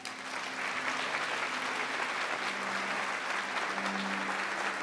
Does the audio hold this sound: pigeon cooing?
no